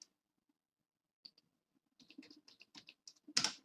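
Typing on a computer keyboard, heard as a close, quiet run of quick key clicks, sparse at first and then in a rapid burst, ending with a louder clack.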